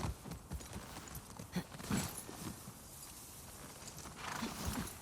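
Horse hooves clip-clop in The Last of Us Part II, a steady walking rhythm of soft, close thuds over ambient game background, with an occasional snort.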